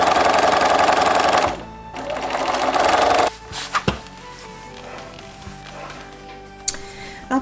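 A sewing machine stitches two fabric pieces front to front for a project bag, running in a fast loud burst, pausing, running again, then giving way to scattered clicks and handling knocks.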